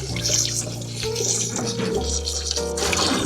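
A garden hose on a high blast sprays water over freshly dug canna bulbs, a loud continuous rushing splatter that fills the short stretch, with a low steady hum beneath.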